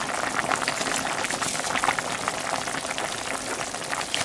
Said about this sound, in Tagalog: Okay, kumukulo na siya.